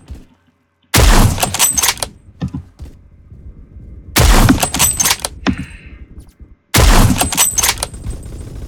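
Loud gunfire from the video game Phantom Forces comes in three dense bursts of rapid cracks, each lasting about a second and separated by quieter gaps of game noise.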